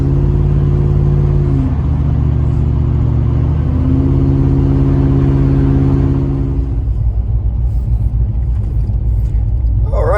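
A 1993 OBS truck with a rowdy 350 V8 engine rumbles loudly from inside the cab, shifting through gears with steady droning pitch steps before settling into a low cruising growl.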